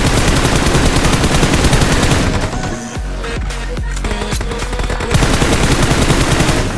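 Rapid automatic gunfire in PUBG Mobile rattles loud and continuous, pauses briefly for a few scattered single shots, then resumes in a dense burst.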